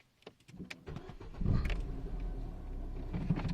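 A Ford Fiesta ST Mk7 engine starts after a few soft clicks and a brief cranking whir, then settles into a steady close idle rumble.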